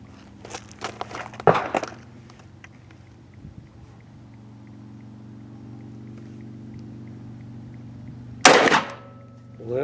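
A .44 revolver with a 9-inch barrel fires a single sharp, loud shot near the end, after a few earlier handling clicks and knocks over a steady low hum.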